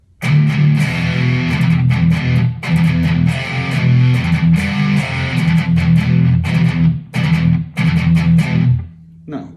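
Electric guitar played through a switch lead amp tone with greenback speakers modelled in BIAS FX 2, with loud, sustained driven chords and notes ringing continuously for several seconds, a few brief gaps between phrases.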